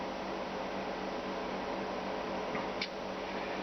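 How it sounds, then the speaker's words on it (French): A steady, whooshing hum from the variable-speed cooling fan of a Rigol DP832 power supply fills the whole stretch, broadband and constant, with a faint tick or two near the end. "Comme vous pouvez l'entendre, il y a un ventilo là"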